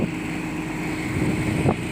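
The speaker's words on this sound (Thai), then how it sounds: "ลม แรงมาก" Strong wind blowing into an outdoor microphone at a rural roadside spot, a loud, steady rushing roar that fills the whole short stretch with only small gusty swells.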